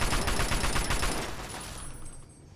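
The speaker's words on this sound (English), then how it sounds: "Shoot him! Don't just look at him! Shoot your goddamn gun!" Rapid gunfire rattles in the Fallout game A Tale of Two Wastelands, a dense burst of repeated shots that is loud at first and then fades off.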